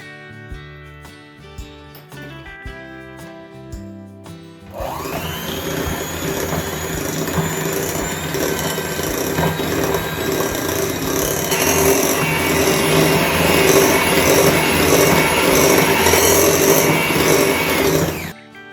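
Electric hand mixer beating eggs into banana bread batter, starting abruptly after a few seconds of quieter sound and then running as a loud, steady whirring hum with a rough scraping edge until it cuts off at the end.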